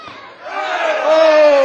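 A fight-event crowd roars loudly and rises in intensity, with a sustained shouting swell and a prominent cheering voice cutting through the noise.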